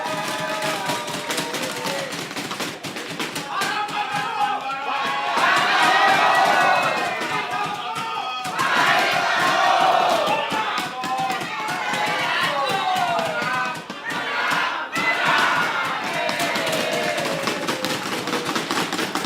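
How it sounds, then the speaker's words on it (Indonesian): A large crowd of supporters chants and cheers rhythmic yells for candidate pair number 1 at a public debate for city mayor and deputy mayor candidates, loud and sustained in waves, with a brief dip partway through. "Waktunya kita akan kembali mendengarkan sorak-sorai dari yel-yel pasangan nomor urut 1"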